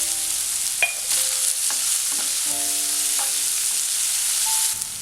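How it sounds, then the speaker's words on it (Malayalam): Sliced onions with salt sautéing in a pan, a constant bright sizzle with a few stirring clicks and scrapes over it, close and fairly loud, without voices. "സവാള ഒന്ന് വഴന്നു വന്നിട്ടുണ്ട്"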